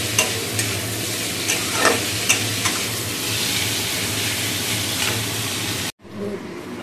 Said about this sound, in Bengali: একটু পেঁয়াজ ফোড়ন আর তেজপাতা দিয়ে এই যে বসিয়ে দিলাম ঝিঙে আর আলুটা